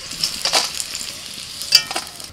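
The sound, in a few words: bitter gourd frying with potatoes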